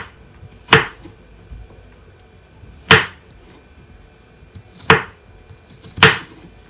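A knife chops garlic cloves on a board, four loud, crisp, separate strikes spaced a second or two apart, close up and with no talking.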